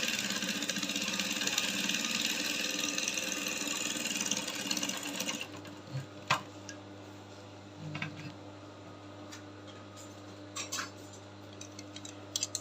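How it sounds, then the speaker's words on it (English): A sewing machine stitches a long pencil skirt from the center front, a loud steady run that fills the first five seconds, then stops, leaving scattered soft ticks and clicks over a faint hum. "I'll sew from center front and secure that part first."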